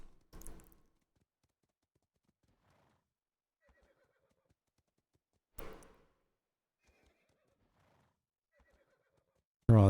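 A horse in the game Atlas RP neighing in short bursts, each whinny loud and close, separated by quiet gaps with faint soft thuds, and a sudden heavy thump at the very end.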